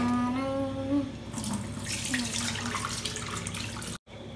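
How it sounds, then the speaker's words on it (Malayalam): Cut tapioca pieces are washed in water under a running kitchen tap, which streams and splashes steadily and close by until it cuts off abruptly near the end. "കപ്പ നമ്മളെ കട്ട് ചെയ്ത് വെള്ളത്തിലിട്ട് വെച്ചാണ് നമുക്ക് നന്നായിട്ടൊന്ന് കഴുകണം"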